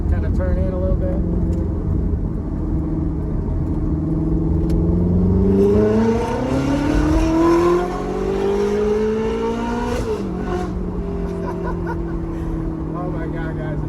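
A Ferrari F430 engine revs up through rising pitch sweeps while driving, then drops off sharply with a crackle, close and loud, a steady engine drone continuing afterward; someone speaks over parts of it.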